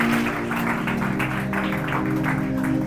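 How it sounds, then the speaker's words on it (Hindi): Church congregation clapping loudly and continuously after a sermon by a pastor, a dense steady roar of hands with a sustained tone underneath throughout. "जोरदार ताली बजाएं।"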